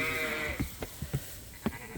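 Sheep on a farm give a few short, fairly faint bleats spaced apart over a couple of seconds, set against a quiet background with a faint steady hum.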